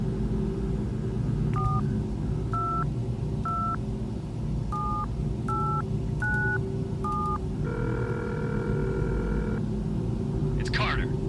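Phone keypad tones in Batman Arkham Shadow, a run of seven evenly spaced dialing beeps followed by a longer steady ringback tone and a brief chirp, over a low rumbling game ambience.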